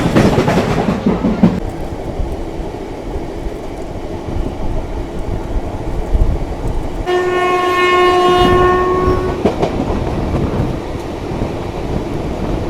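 A Shalimar to Puri passenger train rumbles steadily along the rails, and its horn blasts once for about a second and a half, loud and close over the running noise.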